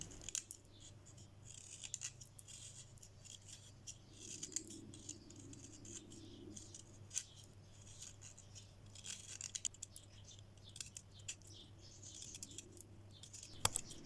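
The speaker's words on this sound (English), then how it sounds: "The wood and the core of this pencil are much softer than the previous one, so it cuts easily and there's no need to apply much pressure." An HB pencil with soft wood and core being sharpened makes faint, close scraping and crisp ticking cuts in an irregular patter over a low steady hum.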